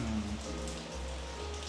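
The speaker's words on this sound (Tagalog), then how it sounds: "Ang saya ng vibe ng ulan." Rain falling at night on a street in Korea, a dense steady patter of drops on surfaces with a faint low hum beneath, continuous and fairly close, no talking.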